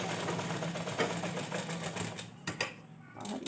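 A sewing machine stitches along a ghaghra waistband belt, a close, continuous mechanical whir that slows and breaks into intermittent clatters toward the end.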